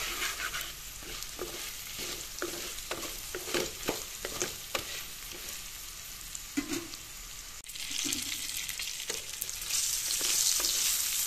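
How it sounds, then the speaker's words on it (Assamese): Pre-fried fish pieces sizzle steadily in hot oil in a pressure cooker for a fish and kohlrabi curry, with a regular series of spoon scrapes and stirs cutting through the frying hiss. "ইয়াতে এতিয়া ফ্ৰাই কৰি থোৱা মাছখিনি দি দিম এইখিনিও এনেদৰে প্ৰায় 1 মিনিট সময় ভাজি মই"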